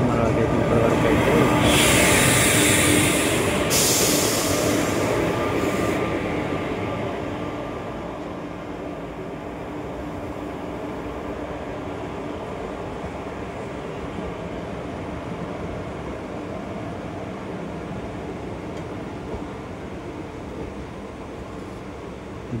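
A passing Aurangabad–Guntur express train at a crossing gives a steady rumble and hiss of rolling railcars, louder at first and then settling into a continuous lower drone, with a short bright hiss early on.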